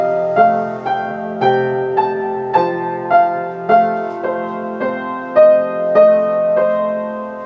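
Piano plays a steady, moderate passage, with a repeating low left-hand pattern under sustained chords, clear and close, with no voices.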